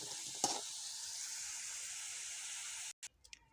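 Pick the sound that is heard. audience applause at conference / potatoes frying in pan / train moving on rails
potatoes frying in pan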